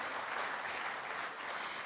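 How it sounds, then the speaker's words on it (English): A short stretch of audience applause at a business dinner, a continuous faint wash of clapping that holds steady with no voices. "Let me hear you give him a good round of applause for living up to his word."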